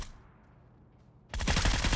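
AUG rifle fire in the battle royale game PUBG erupts suddenly after a quiet stretch, a loud, dense automatic burst that continues to the end.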